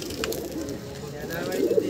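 Soft, low cooing of Madrasi pigeons rises and falls under a faint murmur of background noise, fairly close and continuous.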